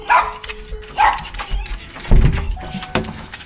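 Several small dogs indoors at home bark in short sharp bursts, close and loud, with a thump and some yipping and whimpering between the barks.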